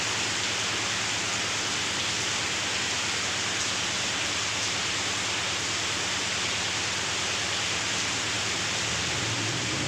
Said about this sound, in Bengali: বিভৎস লেভেলের বৃষ্টি, মুষলধারে বৃষ্টি নেমে গেছে।